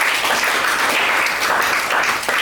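A classroom of students applauds a student group, steady dense clapping throughout at close range, loud and continuous with no gaps.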